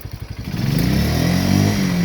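A Yuki 250 ATV engine revs while fording a river, starting with choppy, sputtering bursts and then rising into a sustained, louder climbing drone with a clattering edge.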